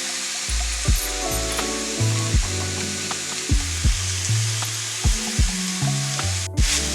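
Radish leaves frying in a pan and being stirred, with steady sizzling under repeated scraping strokes of the spoon against the pan at a regular rhythm, close and fairly loud.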